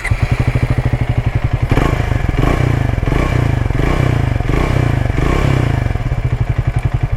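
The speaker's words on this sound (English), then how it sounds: "let's hear the exhaust sound." Triumph Speed T4 motorcycle exhaust thumping loud and close, a steady rapid idle pulse that thickens into a rough, clattering blip of revs midway before settling back to its even beat.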